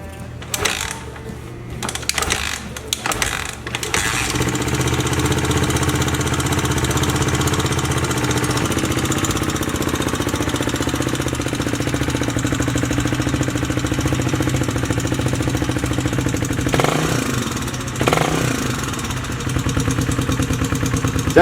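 A Honda XL250 motorcycle engine cranks in a few short bursts, then catches and settles into a steady, loud, close idle, with one brief dip near the end.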